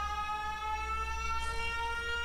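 A steady, sustained siren tone holds throughout, fairly distant and muffled, with a faint low rumble underneath and no voices.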